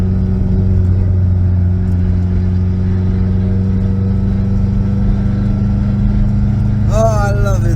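A Ferrari 308 drives along the road with a steady, loud engine drone and road rumble, and a voice comes in briefly near the end.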